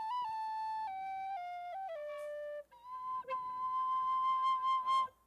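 A tin whistle plays a clear, bright melody, stepping down through several sustained notes, then pausing before rising into a long held tone with a slight wavering finish, solo and close.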